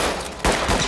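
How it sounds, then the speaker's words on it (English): In the video game Ready or Not, a shotgun fires blind through a wall with a loud burst of noise that swells sharply partway through, close and harsh, with no voice over it. "The guy just blind firing shotgunning through the wall"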